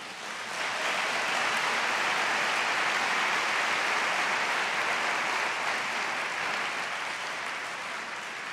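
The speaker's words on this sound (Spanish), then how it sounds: "¿Le podemos dar un aplauso a Dios?" A church congregation applauds in a dense, steady wash of clapping that swells in quickly and holds evenly for several seconds, filling the room with no voices over it.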